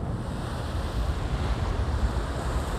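Sea waves and wind at the seaside make a steady, loud roar of surf and gusting air, with rumbling wind buffeting the microphone throughout and no voices.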